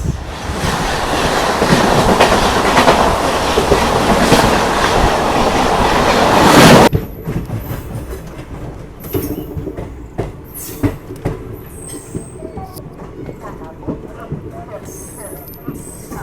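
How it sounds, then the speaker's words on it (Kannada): The Udaipur–Bandra superfast express rumbles past loudly with clattering wheels for several seconds, then cuts to quieter surroundings with scattered knocks and voices. "Udaipur Bandra super fast express"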